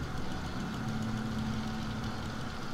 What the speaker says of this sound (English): these little engine sounds are quite a bit annoying